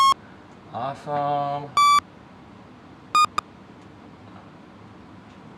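A CMOS electronic keyboard under repair sounds notes from its top octave as a few short, bright beeping tones spaced apart, with a man's brief spoken exclamation between them.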